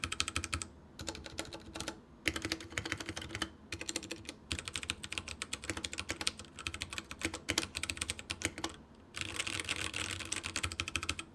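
Rapid clacking keystrokes on a 65% hot-swappable mechanical keyboard fitted with Hono switches, a dense continuous typing rhythm broken by a few brief pauses, close and clear with no voices.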